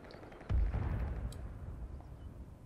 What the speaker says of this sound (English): The farm is getting shelled with 2-inch mortars a bit